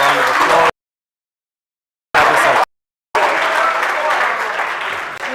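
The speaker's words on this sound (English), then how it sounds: "If we may please give him a round of applause." Loud audience applause at a Brand Africa 2022 awards ceremony for a Lesotho-born businessman, heard in bursts broken by two abrupt silent gaps before resuming steadily to the end.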